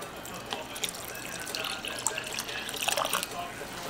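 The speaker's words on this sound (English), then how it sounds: "I'm just gonna add a little bit of water" Water is poured into a pot of homemade beef stew, giving a steady, soft splashing trickle that runs for about four seconds at low volume with a faint kitchen background.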